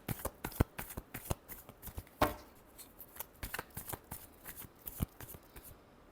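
Tarot cards are shuffled close up in a quick run of crisp riffles and flicks, quiet and with uneven timing.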